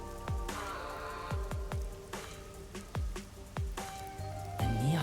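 Rain falls over a busy, neon-lit city district in a video game, a soft steady patter punctuated by sharp droplet plinks and a few watery splashes, with low music-like tones underneath.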